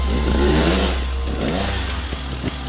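A motocross motorcycle engine revs with a buzzy, mid-pitched drone that rises and falls in short surges, fairly close and loud.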